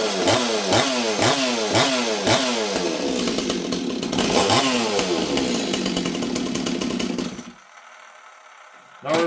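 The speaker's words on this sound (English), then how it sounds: "The idle seems super low to me right now. The saw starts easy." A Stihl 026 chainsaw with a carburetor that had been tampered with, its engine running close and loud in a steady pulsing rhythm for about seven seconds, then dropping off abruptly before a brief return at the end.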